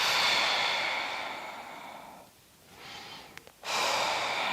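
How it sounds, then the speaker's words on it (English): During a floor-based somatic yoga session, a person breathes audibly through a long, airy inhale-exhale cycle, close and soft, with a brief quiet pause before the next breath. "Breath in, exhale."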